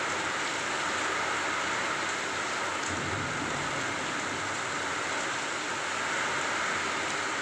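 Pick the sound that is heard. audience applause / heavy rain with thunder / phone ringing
heavy rain with thunder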